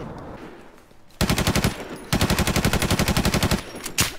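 Rapid machine gun fire rattles out in fast, evenly spaced bursts during a shooter game, with a short break between two long volleys and a final shot at the end.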